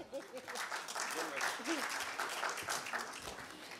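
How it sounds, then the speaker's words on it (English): An audience at a corporate social responsibility summit in India claps steadily and fairly evenly, a sustained wash of applause at moderate distance with no voices over it. "Big, give a huge round of applause for Prerana Langa."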